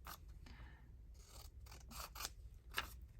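Scissors snip through paper trimmed for a handmade journal, a series of short, crisp cuts in quick irregular bursts, close and alone with no talk.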